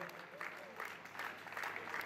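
Moderate applause from a crowd greeting the urban raid race finishers at the podium, steady and somewhat distant, with voices talking over it.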